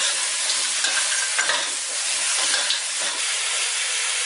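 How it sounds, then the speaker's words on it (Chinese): Garlic being stir-fried in a wok gives a steady, loud sizzle and hiss with faint stirring scrapes, continuous throughout and no voices. "将蒜炒香"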